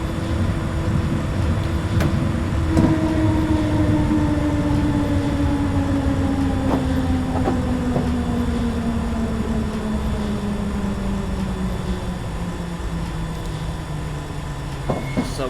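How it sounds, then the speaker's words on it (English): A six-car London Underground C Stock train on the Circle Line in Train Simulator 2020 rolls steadily with a continuous rumbling drone and a slowly falling motor whine, with occasional faint clicks over the sustained running noise. "So we are only driving a 6-car C Stock train"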